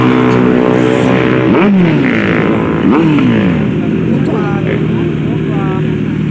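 Several big motorcycles, including a Honda CBR and a Kawasaki Ninja, rev and roar nearby, pitch sweeping up and down over steady engine rumble, with people talking underneath.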